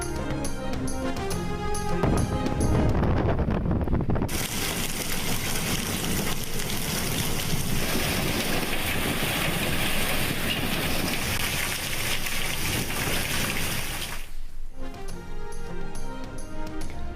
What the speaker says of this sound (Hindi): मुल्क के बालाई और पंजाब के मुख्तलिफ इलाकों में मूसलाधार बारिश।